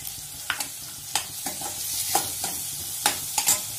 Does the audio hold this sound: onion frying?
yes